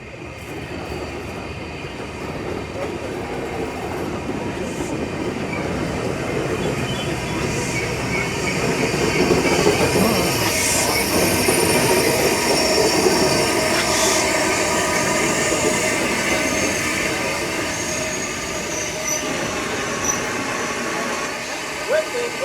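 A train pulls in at a station in Whitby, with a long, steady rumble of wheels and rising squeals building to a peak midway and easing off again, while people talk quietly nearby.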